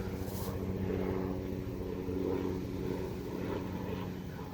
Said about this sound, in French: J'ai beaucoup d'hélicoptères qui passent.